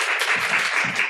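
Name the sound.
applause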